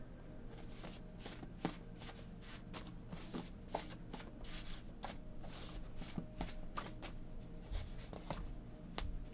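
Tarot cards being shuffled by hand, a steady run of soft riffling and slapping taps lasting several seconds, close and fairly quiet, with no talking.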